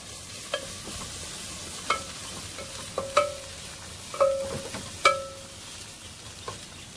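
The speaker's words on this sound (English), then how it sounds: "Just I'm going to give it a stir." A spoon stirs mint leaves, coriander and vegetables with turmeric in a pan. Several distinct scraping clinks sound against the metal over a quiet background with a faint sizzle.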